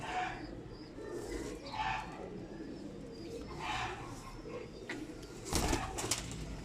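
Almari pigeons cooing softly in repeated low, throaty phrases, fairly close, with faint rustling between the calls and a brief flutter near the end.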